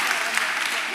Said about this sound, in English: Yeah, give yourselves a round of applause.